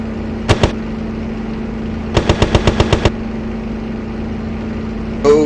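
Spitfire IIb cannon fire in a Battleground Europe flight game, two quick rapid bursts of booming shots over a steady engine drone, the second burst longer with about seven rounds, ending in a brief rushing whoosh.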